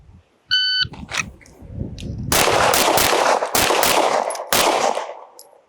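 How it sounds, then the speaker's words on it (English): Pistol shots at an FBI qualification range after a timer beep: a sharp electronic tone, then loud close gunshots with echoing reports, plus a few more bangs, amid outdoor range ambience. "Draw and fire 3."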